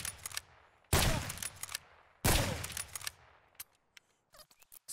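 Gunfire in Escape from Tarkov aimed at Slick body armor: two loud, sharp bursts of rapid shots, each ringing out with a long tail, separated by quiet gaps, with faint game clicks and scattered small impacts afterward.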